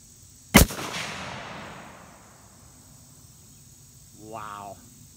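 A single sharp rifle shot from a Savage 110 tactical in 6.5 Creedmoor, fired off shooting bags outdoors, cracks loudly and close, then rolls off in a long fading echo, with a brief voice near the end.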